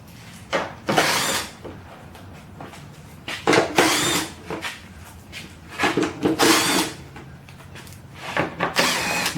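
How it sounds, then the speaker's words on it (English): A small 1/4 inch drive ratchet impact gun working screws on a 2015 Lexus RC350, firing in several short bursts of rattling whir separated by pauses, close and fairly loud, with light clatter between bursts and no talking. "you'll appreciate a little 1/4 inch drive ratchet impact gun like this"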